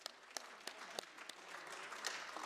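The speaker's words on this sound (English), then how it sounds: "Let's wave our hands and clap our hands for that." Scattered hand clapping from a city council meeting audience, a few distinct claps spaced apart then thickening into faint, moderately distant applause.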